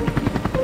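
A helicopter in a military roleplay video game gives a brief, steady burst of rhythmic rotor thumping at moderate volume.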